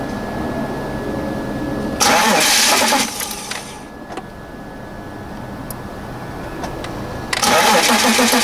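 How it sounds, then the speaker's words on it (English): A 2001 BMW E39 525i with a suspected fuel pump fault cranks in two bursts, each a loud churning whir of a few seconds, with a quieter stretch of low engine noise between them. "Now I'm gonna crank the engine"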